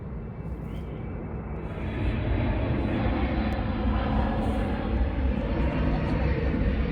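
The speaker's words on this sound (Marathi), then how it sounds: "मस्त विमान बघ किती खालून जात आहे" A low-flying airplane passes overhead on a blueberry farm tour in the USA, its broad engine roar swelling after two seconds and holding loud and steady, with no talking.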